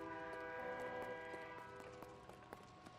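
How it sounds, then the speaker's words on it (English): A train horn in the L.A. Noire video game sounds faint and distant, a steady chord-like blare with soft rail clatter beneath it. "Is a train coming?"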